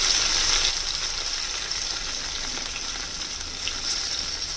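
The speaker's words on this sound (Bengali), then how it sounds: "এরপরে দিয়ে দেব এই নুন মাখানো আলুগুলো। দিয়ে এটাকে হালকা হাতে একটুখানি ফ্রাই করে নেব।" Salted potato pieces fry in a hot pan for a Nepali piro aloo dum, giving a steady, close, loud sizzle that holds evenly throughout with no talking.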